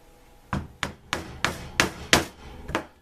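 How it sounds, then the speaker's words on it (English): A hammer strikes a punch through leather to make stitch holes, seven sharp, evenly spaced blows about a third of a second apart, close and crisp, with no voices. "to pre-punch my stitch holes than to punch them as I go along"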